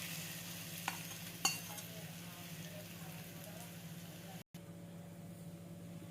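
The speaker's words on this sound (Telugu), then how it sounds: "ఈ తాలింపుని మనం చేసుకున్న ఈ పచ్చడిలో వేసుకుందాం." Hot tempering is poured over a coconut mango chutney, giving a quiet, steady sizzle under a low kitchen hum, with a couple of faint clinks near the start.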